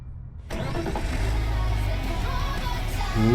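A car engine in the Car Dealer Simulator video game cranks and catches abruptly, then settles into a steady loud idle with a brief rev at the end, with no voices.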